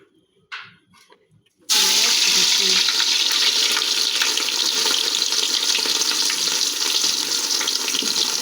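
Oil in a pan bursts into a loud, steady sizzle after a brief clink and rattle, the bright hiss holding unbroken at close range for several seconds.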